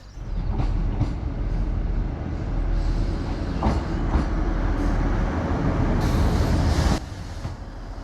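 A ScotRail HST train rumbles at Tain Station, a loud, continuous low roar with wheel clatter and brief higher squeals before it eases off near the end.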